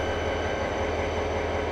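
A heavy freight train in the Trainz 2010 simulator begins to move, a steady loud diesel rumble and rolling drone with no pauses.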